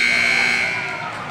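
A loud, sustained electronic buzzer sounds at the end of a quarter in a North Greenville vs. Erskine women's college basketball game, a steady harsh tone that slowly fades under arena noise.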